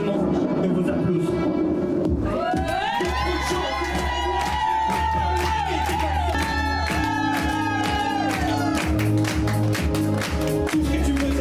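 A concert crowd cheers and claps loudly, with shouts and high excited voices rising over sustained applause and a low musical drone underneath.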